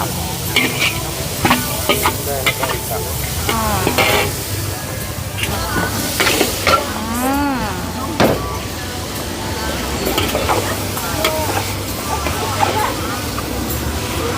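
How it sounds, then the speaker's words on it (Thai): Noodles stir-fried with egg and bean sprouts in a wok, a loud continuous sizzle with rapid metallic scraping and clanking of the spatula, and background chatter from people nearby. "ก็ผัดเหมือนเดิมเลย ใส่ไข่แล้วก็ใส่ถั่วงอก"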